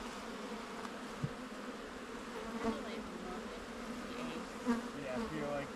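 Honey bees buzz steadily around an opened hive during installation of the year's colonies, a dense close hum with a few individual bees passing near, a couple of brief louder bumps and no talking.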